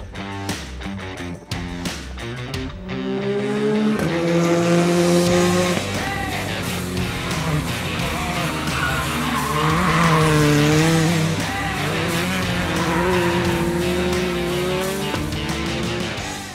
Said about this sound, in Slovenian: Kakšna je torej vožnja na sovoznikovem sedežu v dirkalniku razreda R5?